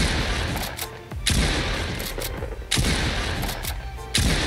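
Shotgun blasts in Fortnite, three heavy booming shots spaced about one and a half seconds apart, each with a loud decaying tail.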